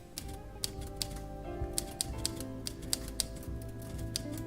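Sharp, rhythmic keystrokes clack one after another, typing in the PC adventure game The Journey Down, set over soft background music at moderate volume with no speech.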